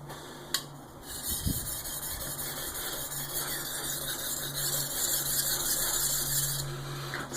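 A knife blade is drawn steadily across a whetstone in continuous rasping strokes, close and fairly loud, with a faint squealing edge running throughout.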